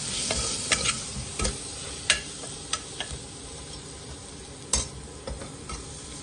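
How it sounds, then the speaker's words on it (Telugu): Crushed ginger garlic paste frying lightly in hot oil for egg biryani, a steady close sizzle broken by several sharp stirring clicks of a spoon against the pan. "దంచుకున్న అల్లం వెల్లుల్లి పేస్ట్, 1 టీ స్పూన్ ఆఫ్ అల్లం వెల్లుల్లి పేస్ట్, లైట్గా ఫ్రై అయ్యేంత వరకు వేయించుకోవాలి."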